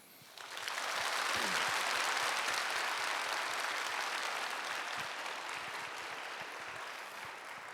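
A church congregation breaks into warm, sustained applause to welcome a new pastor and his wife, the clapping swelling quickly, staying dense and even, then easing slightly.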